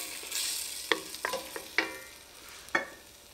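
Spoon stirring ingredients into a pot of albondigas soup, several distinct clinks and scrapes against the pot over a soft simmering sizzle.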